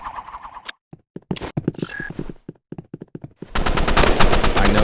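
Gunfire in the online shooter game Rivals: several sharp, loud single shots spaced irregularly with brief silences between, then a dense rapid automatic burst running to the end, close and punchy.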